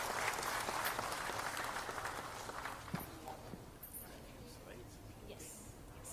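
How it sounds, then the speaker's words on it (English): Applause welcomes the keynote speaker at the HCSC Stree Summit 2023, a full crowd clapping that gradually thins and fades to scattered claps and room murmur. "Can you please welcome him with a warm round of applause"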